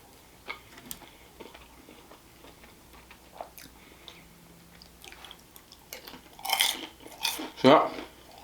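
Crunchy fried Chinese takeout chicken being chewed up close, scattered soft bites early, then louder crunchy chewing bursts toward the end.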